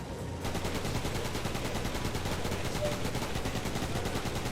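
Rapid, sustained turret fire in the RoadKill video game, a dense, even stream of shots running loud and unbroken from start to finish.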